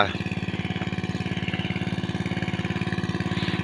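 An engine-driven pump drains a catfish pond, its motor chugging in a steady fast rhythmic pulse close by and continuously loud throughout.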